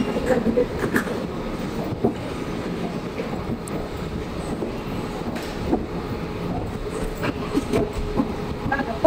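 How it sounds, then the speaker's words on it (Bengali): KTX high-speed train at Pohang Station in Korea, heard as a steady rumble of rail cars with faint clicking wheel beats, mid-distance and continuous, with some wind buffeting the microphone. "ট্রেন ইতিমধ্যে আসছে"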